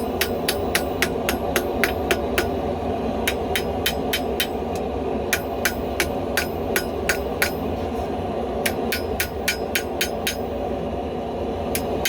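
Small hammer forging a blade tip and spine at a forge, bright ringing strikes in steady bursts of rapid blows with short pauses, loud and close over constant forge roar.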